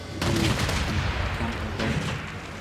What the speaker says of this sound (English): This one is going to keep on bombarding that coastal location.